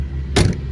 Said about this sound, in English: Doors open and close nicely as they should.